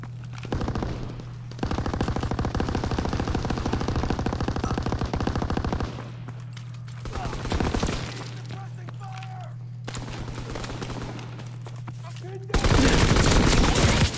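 Bursts of PPSh submachine gun fire in Call of Duty WWII, dense rapid volleys with a steady game hum underneath, pausing and resuming, ending in a loud final burst.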